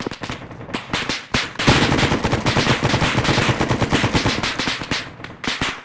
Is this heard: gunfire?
yes